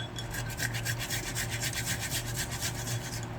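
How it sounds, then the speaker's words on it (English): A small whole tomato is rubbed against a kitchen grater in quick, rhythmic rasping strokes, close and steady, with a wet scraping texture and no voices. "Then grate it until the juice comes out."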